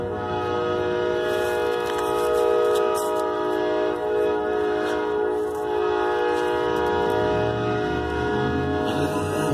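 A slow old freight train rolls past in the cold while its horn sounds in long, sustained blasts over a steady rumble of rail cars, fairly close and loud.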